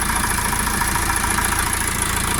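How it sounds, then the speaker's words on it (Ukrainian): A Dongfeng 404 tractor engine idles close by, a loud, steady mechanical drone with an even rhythmic chug and no pauses. "От такий тракторець вигружається з Житомира"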